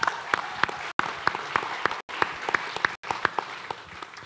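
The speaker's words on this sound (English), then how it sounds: "round of applause." Audience applause at a real estate capital-raising event, a crowd clapping steadily in brief bursts with short gaps, moderately loud and close.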